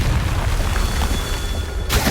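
Confringo spell blast in Hogwarts Legacy, a loud low rumbling boom sustained over about two seconds, closing with a sharp burst at the end.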